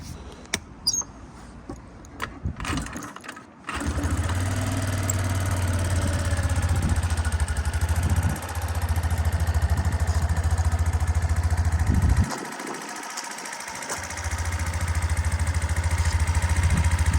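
A Suzuki Address V125G scooter engine, a used Japanese import in factory condition, idles steadily with a low even hum that runs nearly continuously, dropping out briefly partway through.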